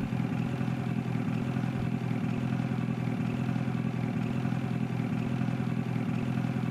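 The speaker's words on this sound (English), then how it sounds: "Maybe I need to turn the boat engine off." A boat engine runs in Farming Simulator, giving a steady, mid-pitched motor drone with a faint rattling texture that holds evenly and fairly loud throughout, with no talk over it.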